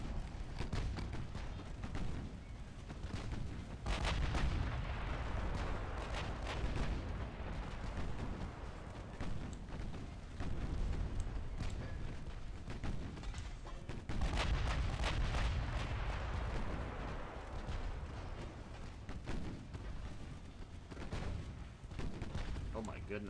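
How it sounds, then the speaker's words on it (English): Naval gunfire in the warship game Ultimate Admiral Dreadnoughts, small 2-inch guns firing as a battlecruiser engages, repeated booming salvos in bursts over a rumbling battle background, fairly quiet overall. "Our 2-inch guns are opening up."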